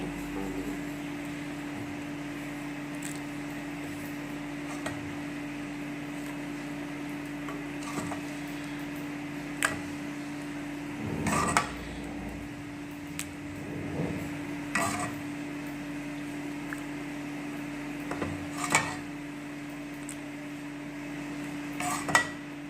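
Kheer being ladled from a pot into a bowl, a series of scattered spoon clinks and scrapes against metal and ceramic over a steady low hum, close and moderately loud.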